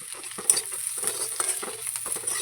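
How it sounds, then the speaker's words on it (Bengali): Half-fried onions with turmeric and salt are stirred in a pan, a steady sizzle broken by repeated scraping and clattering strokes of the spatula in an uneven rhythm, close and clear with no talking. "এটা নিয়ে নেড়ে করে নেবো"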